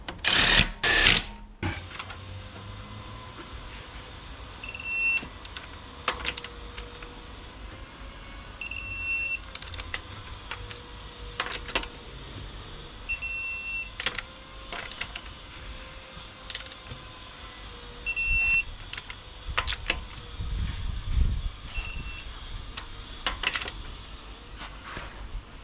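Repeated short electronic beeps come from a handy digital torque tool while wheel nuts are tightened to spec on a Range Rover L405, spaced every few seconds amid clicks and workshop clatter, with no talking.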